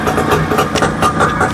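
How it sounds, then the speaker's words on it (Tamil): A Suzuki Samurai motorcycle engine idles in a steady, loud, close rumble with a slightly uneven pulse and no talking. "ஐடியலோட சவுண்டு வந்து நான் மாற்றி வச்சுருக்கேன்."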